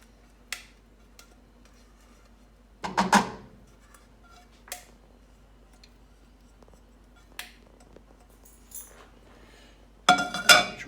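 Utensils mixing sofrito into cooked quinoa in a pot: sparse, quiet clinks and scrapes, a few sharper clusters of metallic ticks separated by near-silence.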